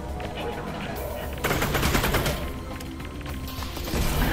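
Rapid bursts of gunfire in the VR shooter Half-Life: Alyx, loud and continuous with denser volleys midway, while a player talks over the shooting.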